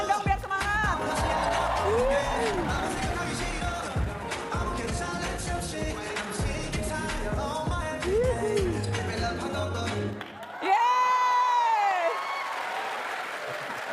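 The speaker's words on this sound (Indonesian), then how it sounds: "Kasih tepuk tangan dong biar semangat." A crowd claps and cheers beneath loud music and a singing voice, the applause running steadily through most of the stretch before a short break, then voices resume.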